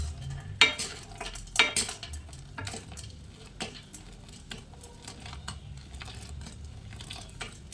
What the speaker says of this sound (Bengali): ভালোভাবে মিশিয়ে নিচ্ছি, দেখতেই পেলেন